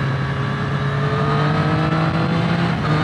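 A Triumph Street Triple RS 765 sport bike accelerating hard with clutchless quick-shifter gear changes: a loud, steady, close engine roar that runs through the whole stretch without a break.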